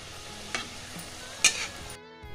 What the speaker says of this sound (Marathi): आता काही अशा तळून घ्यायच्या.